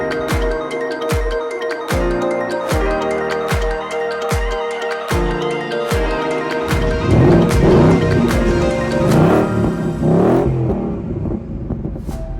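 A Ford Mustang Mach 1 being driven, its engine droning steadily with a rhythmic thumping underneath, then swelling louder and rougher as it accelerates before easing off; no voices.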